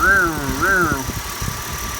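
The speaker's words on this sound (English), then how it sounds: "Seems to be idling pretty well" A car engine idles with a steady low hum, while a voice speaks briefly over it at the start.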